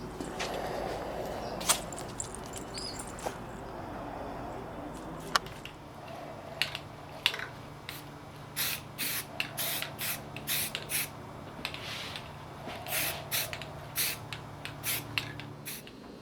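Light spray-paint coats over panel lines on a model ARF aircraft: a steady hiss at first, then many short spray bursts with clicks and handling noises, close and without talk.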